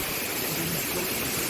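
A mountain stream near Mana village in the Himalayas on the Badrinath route rushes with a steady, loud, broadband wash of flowing water, continuous and close, with no voices.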